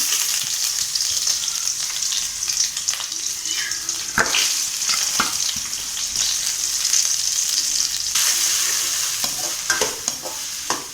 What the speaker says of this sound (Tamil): பேனில் ஆயில் ஊற்றிக்கலாம். கொஞ்சமாக இஞ்சி பூண்டு பேஸ்ட் போட்டுக்கலாம். கொஞ்சமாக ஆனியன் போட்டுக்கலாம்.